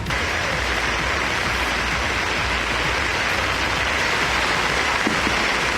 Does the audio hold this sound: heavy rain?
yes